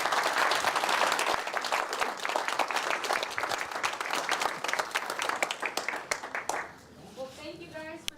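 An audience applauds after speakers share stories at a live talk event, a dense burst of clapping that starts loud, thins out and fades near the end, with a voice briefly heard.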